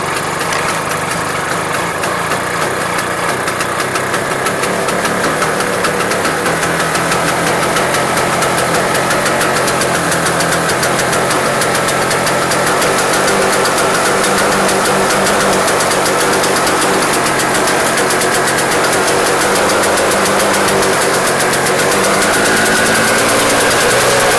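A snow blower engine pulled from the garbage runs continuously, a loud, rough, knocking mid-pitched putter close by with no pauses and no voices.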